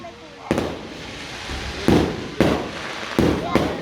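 New Year fireworks go off in four or five sharp, loud bursts spaced a second or so apart, with crackling noise between them.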